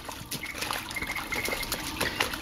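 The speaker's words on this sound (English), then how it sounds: "Children splashing in the puddle" Children splashing in a puddle: faint, scattered watery splashes and trickling close by, with no talking.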